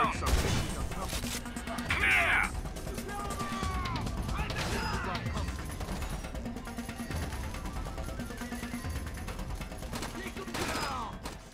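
Gunfire in the video game Rainbow Six Vegas, set in a casino: sustained rattling shots and crashes at a steady pace, mixed with game effects, tonal chimes and faint background voices.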